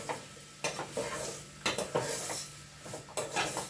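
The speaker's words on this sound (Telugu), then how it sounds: "వేసుకున్నాక బాగా కలపండి మొత్తం ఉప్పు కారం కలిసేటట్టు ముక్కలకి" Pieces are stirred in a pan with salt and chili powder while cooking a mango and egg curry with drumsticks, quiet scraping spoon strokes in short irregular bursts over a faint sizzle.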